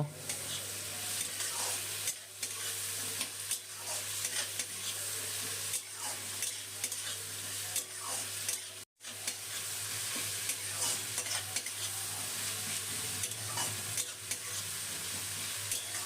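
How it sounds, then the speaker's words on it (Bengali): Chopped tomato and onion fry in a pan, a steady, close sizzle with the repeated scrape of a spatula stirring through the mixture, continuous for about sixteen seconds with one brief break. "এর মধ্যে দিয়ে দিলাম টমেটো কুচি টমেটো কুচিটাও পেঁয়াজের সাথে ভেজে নেব"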